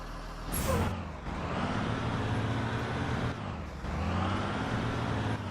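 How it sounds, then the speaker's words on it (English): A bus air brake in a driving video game lets out a sharp hiss of released air, followed by a steady loud rush and engine drone that dips briefly and resumes. "when you can set up a horn, you hear this air rush sound"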